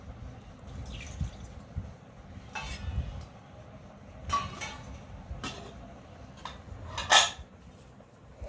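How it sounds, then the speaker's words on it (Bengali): A dinner plate is rinsed and scrubbed under running water, with scattered drips, splashes and several sharp clinks of the dish against metal, close by and fairly quiet. "থালাটা ধুয়ে নিই"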